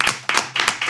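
Several quick bursts of clapping from a small group on a podcast set, three or four short rounds of hand claps separated by brief gaps, close and fairly loud.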